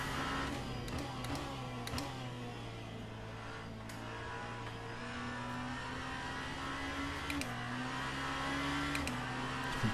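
Genesis hypercar in the racing game Le Mans Ultimate, its engine droning steadily with rises and drops in pitch as it brakes and revs, continuous and close, with no talk.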